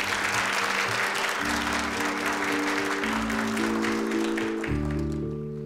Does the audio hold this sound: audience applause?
yes